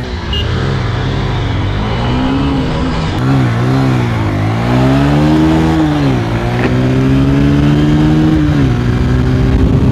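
Honda SP 125 and Bajaj Pulsar 125 motorcycle engines rev and accelerate in a drag race, pitch rising and falling through several throttle bursts before holding a loud, sustained drone.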